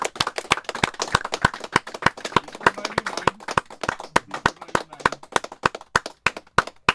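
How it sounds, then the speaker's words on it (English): Slow, steady clapping by a single person or small group, sharp evenly spaced claps repeating throughout against a faint background, fairly close and distinct. "Who's clapping?"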